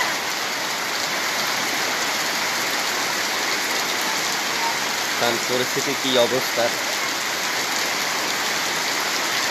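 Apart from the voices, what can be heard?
heavy rain falling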